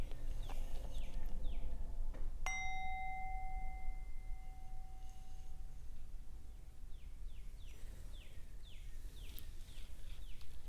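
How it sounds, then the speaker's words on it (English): A meditation bell is struck once, a bright clear tone that sustains and slowly decays over several seconds, with birds chirping softly in the background. "opening to receive the sounds of the bell."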